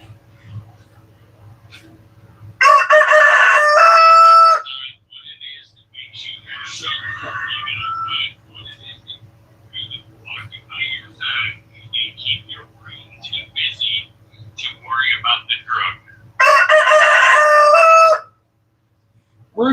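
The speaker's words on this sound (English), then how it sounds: "Rooster, shut the fuck up." A rooster crows loudly and close in two long, harsh calls at the start and end, with someone talking quietly between them over a low steady hum.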